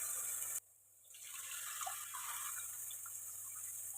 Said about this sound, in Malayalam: ഇപ്പോൾ ലേശം കൂടി ഞാൻ രണ്ടാമത് വെള്ളം ഒഴിച്ച് പുളി ചേർത്ത് കൊടുത്തിട്ടുണ്ട്